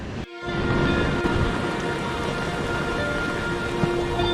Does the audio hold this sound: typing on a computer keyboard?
no